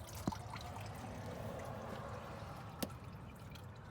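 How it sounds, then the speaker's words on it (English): Coolant runs out of a removed hose on a 1997-2001 Honda CR-V, a faint, soft trickle with two distinct drips standing out against a quiet, low background. "Okay, so it still has coolant running out."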